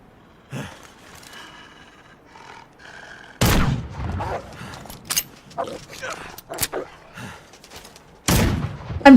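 Gunfire in the video game Wintermute during aim practice: several sharp, loud single shots land at irregular intervals, with softer mechanical clicks and a quiet voice in between.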